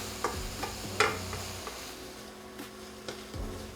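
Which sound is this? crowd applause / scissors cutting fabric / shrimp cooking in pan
shrimp cooking in pan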